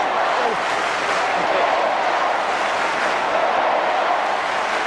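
A packed GABBA stadium crowd roars steadily through a late stage of a Brisbane versus Swans Australian football game, a dense, continuous wall of cheering with no breaks, a commentator's voice faintly under it.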